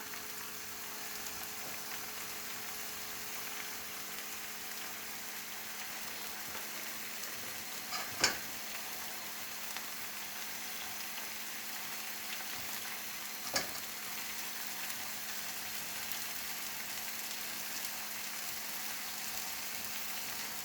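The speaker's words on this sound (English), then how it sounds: "And now we're going to start cooking the meatballs." Beef meatballs frying in a pan for a tomato-sauce dish, an even, continuous sizzle held at moderate level, broken by two sharp clinks of a utensil.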